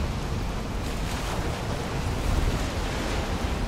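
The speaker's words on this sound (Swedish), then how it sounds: "Det är verkligen höga vågor alltså." High ocean waves surging in a video game set in the Ashlands, a steady broadband roar of surf and wind that fills the whole stretch at moderate loudness, with no talk over it.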